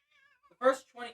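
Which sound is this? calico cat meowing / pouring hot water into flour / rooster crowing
calico cat meowing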